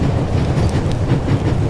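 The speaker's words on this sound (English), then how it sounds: "The engine is pulling the cars and its full force is acting on the coupling." A train engine pulls its cars in The Raven – Legacy of a Master Thief, giving a loud, steady rumble with faint rhythmic clatter throughout.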